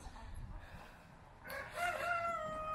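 A rooster crows loudly after a quiet stretch, a drawn-out call rising above faint background rustle.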